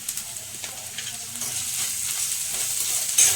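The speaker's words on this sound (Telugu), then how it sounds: "ఇది కొంచెం ఫ్రై అయ్యేంత వరకు కలుపుకుందాం" Pieces of salt fish fry in a pan while being stirred, giving a bright, steady sizzle with soft scraping strokes that swell toward the end; no talking.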